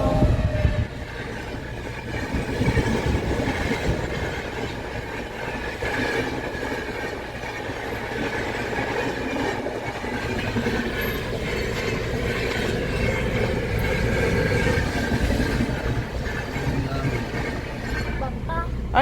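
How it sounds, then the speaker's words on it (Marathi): A train rumbles steadily through a railway level crossing in India near a station, a loud continuous rolling roar with clattering wagons, while people talk nearby throughout. "तर तिकडून येते ट्रेन."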